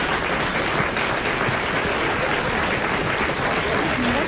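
Steady, full audience applause in a French radio or TV studio show, a thick continuous clapping sound heard throughout without pause.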